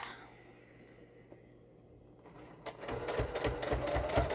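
Sewing machine stitching: quiet at first, then a steady, rapid mechanical chatter that starts near the middle and runs to the end, close by.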